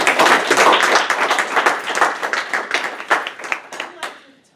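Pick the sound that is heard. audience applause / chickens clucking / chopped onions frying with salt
audience applause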